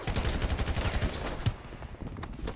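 Rapid automatic gunfire rattles in GTA V during a zombie war, a fast burst of close, loud shots in quick succession with a heavier bang midway.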